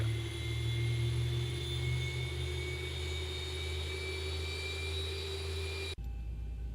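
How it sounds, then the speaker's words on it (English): Jet engine start on a ZIBO mod Boeing 737 in X-Plane flight simulator, a steady whining hum with sustained high tones heard from outside, cutting abruptly to a low rumble near the end. "doing a stable engine start and listen to the cool sounds outside"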